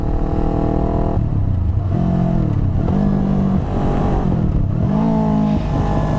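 Motorcycle engine droning loud and close in fifth gear, then stepping down through gears without rev matching, each shift leaving a falling drone and a sharp pitch jump as revs climb, with wind rush throughout.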